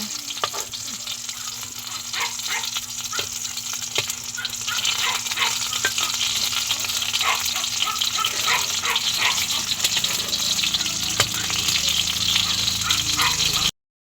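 Bean sprout spring rolls (lumpiang togue) fry in hot oil with a steady, dense sizzle and crackle, close and continuous, with faint background sounds throughout.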